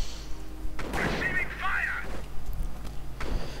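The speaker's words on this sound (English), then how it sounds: "Artillery going in though, right on the building there" Artillery and gunfire in a WWII strategy video game, with shells striking a building: booming blasts and crackling impacts around the middle of the clip, mixed with game battle ambience and a voice talking over it.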